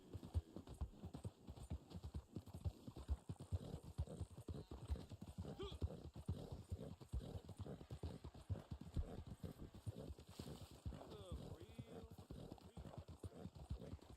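A black Arabian horse trotting in the Red Dead Online game, with rapid, even hoof clip-clops continuing throughout, fairly faint, with a speaking voice underneath.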